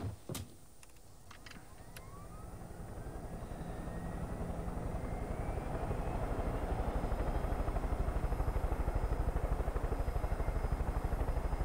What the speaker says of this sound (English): Take this chopper then.